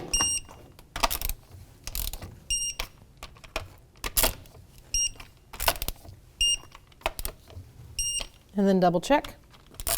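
A torque wrench tightens the wheel nuts on a Volvo V70, a series of sharp ratcheting clicks and clacks in short bursts, with some high beeps and someone speaking briefly near the end.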